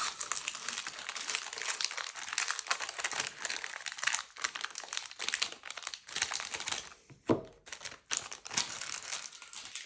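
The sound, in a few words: opening sealed Lord of the Rings card booster packs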